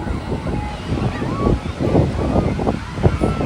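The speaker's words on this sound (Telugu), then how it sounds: "సో ఇది వచ్చేసి అంతర్వేది బీచ్" Surf rolling in at Antarvedi beach on a crowded festival day, a steady wash of waves with wind buffeting the microphone, continuous and close, with faint crowd murmur beneath.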